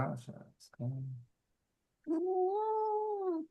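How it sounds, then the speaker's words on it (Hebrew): A pet cat lets out one long, sustained meow, close and loud, during a podcast recording, right after a stretch of speech and a short pause. "החתול שלי ממש רוצה להיות חלק מהפודקאסט גם."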